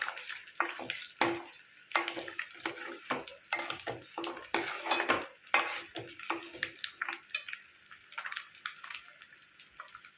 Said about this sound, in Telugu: ఈ గుడ్లు ఇలాగా బ్రౌన్ కలర్ వచ్చే వరకు వేపుకోవాలి